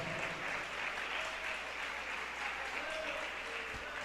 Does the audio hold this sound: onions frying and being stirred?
no